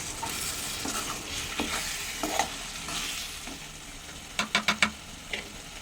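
Bitter gourd and sesame curry is stirred in a pan over heat, with a soft continuous sizzle broken by spoon scrapes and a quick burst of clinks near the end.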